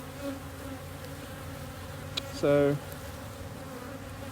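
Honeybees swarm at a hive entrance during a 4-H beekeeping check, with drones among them: a faint steady hum of wingbeats runs throughout, broken by one brief, loud buzz as a bee passes close.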